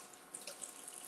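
Tap water runs into a kitchen sink to rinse during cooking, a soft steady hiss with faint splashes and drips, fairly quiet and with no talking.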